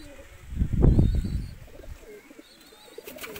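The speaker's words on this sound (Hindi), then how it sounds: "ये अब अंदर जाएंगे कबूतर" A pigeon gives a low, throaty coo close by, followed by quieter rustling and faint chirps in the background.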